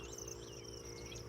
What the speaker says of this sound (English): You hear all the birds, everything.